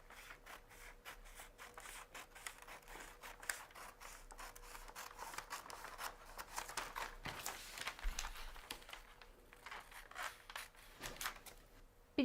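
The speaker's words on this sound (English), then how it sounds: "I can start cutting the collar." Scissors snip through fabric for a collar in quiet, irregular cuts close by, with soft rustling of cloth between the snips.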